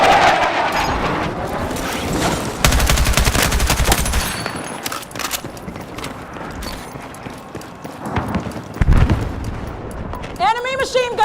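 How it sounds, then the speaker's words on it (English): Enemy machine gun fire in Battlefield 6 rattles in dense, loud bursts amid battlefield noise and clattering, while voices call out throughout. "Enemy machine gun!"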